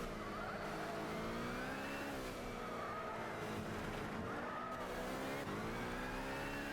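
Historic racing car engine in the Gran Turismo 6 video game on PS3, a constant loud drone with rising and falling revs and faint tyre squeal, heard on its own without talk.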